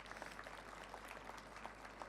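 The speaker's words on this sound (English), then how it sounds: "Maybe welcome him with a nice applause." A conference audience at a hydrogen innovation forum session claps to welcome a co-moderator, with sparse, fairly faint individual claps over a steady low hum.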